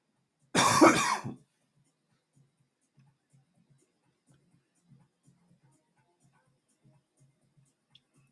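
One harsh, close cough bursts out near the start from someone streaming live, followed by near silence with faint low ticks.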